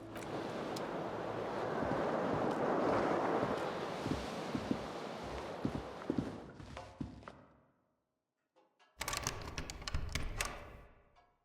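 Ocean waves in the Disco Elysium video game, a broad soft surf roar mixed with wind that swells and fades, drops to near silence, then returns in a brief rougher burst.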